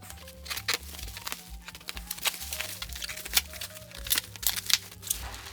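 Rusty children's scissors cutting through plastic bubble wrap packaging, a series of close, quiet snips and crinkles at an irregular rhythm, with a low steady hum underneath.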